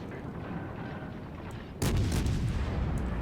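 Naval artillery salvo fired in World of Warships, a sudden heavy boom breaking in halfway through and rolling on as a loud, sustained rumble over steady ambient background.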